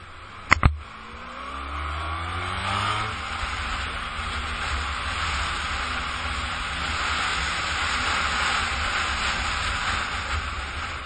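Honda VFR1200 motorcycle engine heard while riding, a steady loud drone with rushing wind noise after a couple of sharp knocks at the start, no speech.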